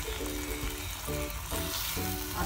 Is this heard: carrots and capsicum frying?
yes